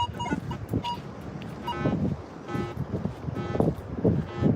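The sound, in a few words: wind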